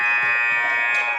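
Buzzer at the end of the first half of a high school boys basketball game, a loud, steady electronic tone sounding for over a second, with faint crowd noise beneath.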